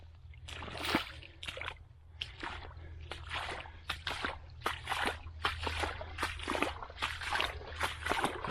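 Floodwater from an overflowing pond runs through a drainage channel on a rural property, giving a close, irregular burst of sloshing, trickling and splashing that continues for several seconds.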